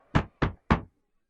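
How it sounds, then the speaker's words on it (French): Three firm knocks on a wooden door, evenly spaced and close, each a short dull thud, followed by silence. "Arrivé devant sa porte, il frappa."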